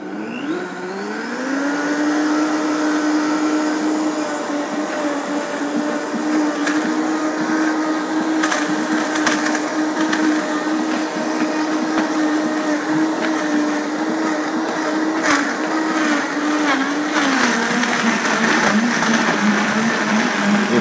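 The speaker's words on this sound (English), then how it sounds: "So let's blend it up. This is my Vitamix." A Vitamix blender whirs steadily as it blends a green superfood drink, a loud continuous motor drone that ramps up at the start and runs unbroken for about twenty seconds, with a slight drop in pitch near the end.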